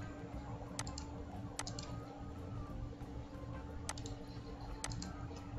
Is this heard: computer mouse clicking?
yes